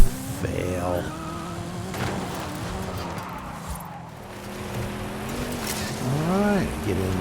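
A Porsche 959 races in a video game, its engine droning steadily with rising and falling revs and tyre noise, loud and close, while a voice talks over it.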